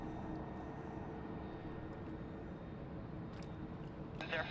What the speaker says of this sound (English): Looks like we've got a Air Canada 777.